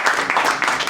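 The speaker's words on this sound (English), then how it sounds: "Another round of applause for everyone." Applause from a class audience for performers, a dense, steady patter of many hands clapping close by, with faint voices mixed in.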